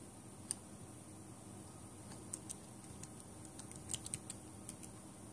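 Keyboard typing while entering settings on a Raspberry Pi Zero setup, sparse, faint clicks that gather into a short quick burst of keystrokes over a steady background hiss.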